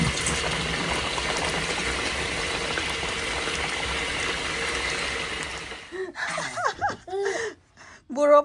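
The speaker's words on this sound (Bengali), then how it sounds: "প্রথমে আমি চিকেন রান্না করতেছি আলু দিয়ে" Chicken and potatoes cooking together in a pot give a steady, dense bubbling and simmering hiss that continues for about six seconds, then drops away, leaving brief scattered voices and small movement noises.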